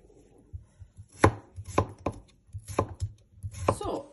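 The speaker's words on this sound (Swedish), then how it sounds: "Skiva dem." A knife slicing through potatoes on a cutting board, a string of distinct close chops spaced irregularly with quiet gaps between them, no talk.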